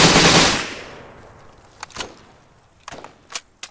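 Gunfire in ArmA 3 combat: a loud blast fades out at the start, then several sharp shots crack at mid distance in irregular pairs.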